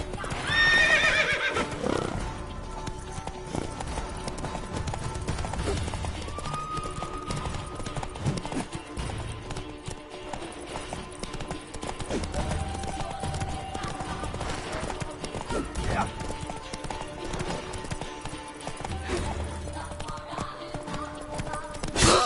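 A horse in The Witcher 3 video game whinnies loudly at the start, then its hooves clip-clop in a steady trotting rhythm, with game music and ambience running underneath.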